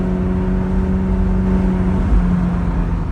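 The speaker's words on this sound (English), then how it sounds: "Now the car is feeling really good on this test drive" A McLaren car on a test drive after repairs, its engine holding a steady, loud drone with a brief dip and recovery near the end, heard from inside with no talk.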